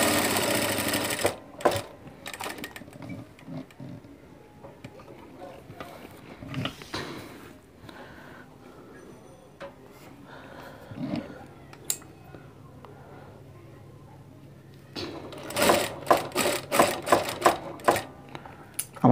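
A sewing machine stitches the placket piping on a panjabi, running in short bursts of rapid mechanical clatter separated by quieter pauses, with a longer fast run near the end.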